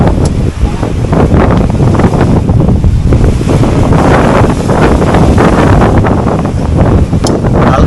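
Sea waves roll onto a shore at sunrise, with strong wind buffeting the microphone. The surf is loud and steady, with broken washes and spray running continuously and no clear gaps.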